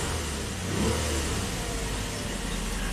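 A Nissan car engine runs steadily close to the microphone, a dense continuous mid-pitched drone with slight surges, its fault of misfiring under load not clearly distinguishable, and no one speaking.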